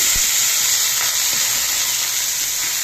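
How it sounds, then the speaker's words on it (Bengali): Chopped bitter gourd and potato fry with panch phoron, giving a loud, steady close-up sizzle and hiss with a few faint knocks of utensils. "এবারে করলা আলু কুচিয়ে ভাজি করব"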